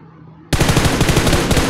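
Rapid automatic gunfire in the battle royale game BGMI bursts in suddenly and rattles on loud and close in a fast steady stream of shots.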